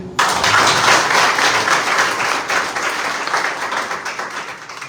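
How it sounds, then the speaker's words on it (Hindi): Loud, dense applause from a congregation at an Easter resurrection day prayer service, rising sharply at the start and continuing steadily, fading slightly toward the end. "आप लोगों के लिए जोरदार तालियां हो जाए।"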